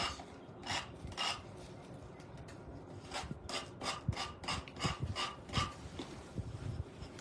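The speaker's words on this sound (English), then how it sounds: "I keep forgetting it's got these little ridges, and I'm thinking, why is it not sanding straight?" Repeated rasping strokes of sandpaper on a ridged wooden cigar box, steady back-and-forth rubbing at close range with no talking.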